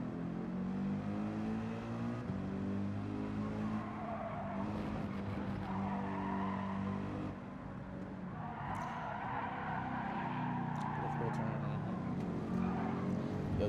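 Mercedes-AMG GT3 race car in Gran Turismo 7 gameplay, engine revving and rising through gears with tire squeal, heard continuously while a person talks over it.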